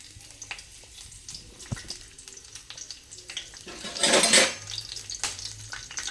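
Curry leaves dropped into hot oil in a home kitchen pan while cooking ridge gourd, giving scattered crackles and stirring clinks before a short loud burst of sizzling that then settles back.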